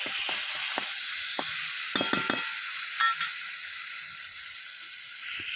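Spice masala with ginger-garlic paste sizzles in a pan for a mini block meat dish, a steady close frying hiss broken by several quick scraping clicks from stirring.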